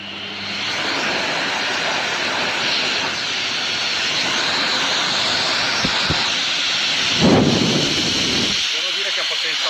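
Dog grooming blower dryer for a poodle, with hot and cold cycle modes, running at maximum power: a loud, steady broadband rush of air that holds for several seconds, then cuts off abruptly near the end.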